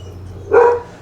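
A single sharp dog bark indoors, close and loud, standing alone against a quiet room hum.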